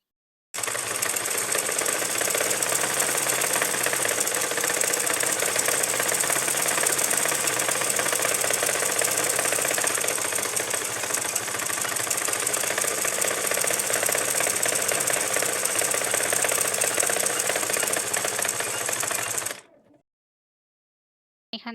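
A sewing machine runs continuously, double-stitching the side seam of a ladies' palazzo, a steady mechanical whir held at even loudness for about twenty seconds before it stops abruptly.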